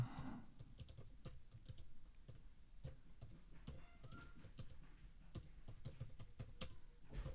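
Quiet, irregular clicking of keys on a computer keyboard, typed in short bursts with no talking.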